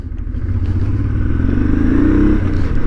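A Honda Transalp motorcycle ridden at speed, its engine droning steadily and rising in pitch as it accelerates through a gear, loud and close with a light mechanical clatter.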